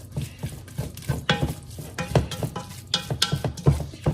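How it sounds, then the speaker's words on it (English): Tomato paste cooks down in a pan as a utensil stirs and scrapes it in repeated short strokes over a faint sizzle, close and with no talking. "it's really important that you go ahead and kind of cook that down a little bit"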